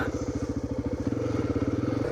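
A Honda XR trail motorcycle idles with a steady, throbbing low putter, then pulls away with a slightly louder, denser beat, close by and with no voices.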